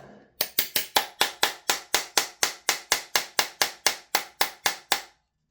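About twenty evenly spaced hammer taps on a pin in a B&T GHM9-G gas blowback airsoft gun ring out sharply in a quick, steady rhythm, close and loud, then stop.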